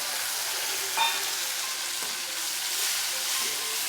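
Finely chopped tomatoes and green chillies sizzle in a pan over onions already fried until reddish, for aloo matar; an even, close crackling hiss with a faint clink from stirring near the start.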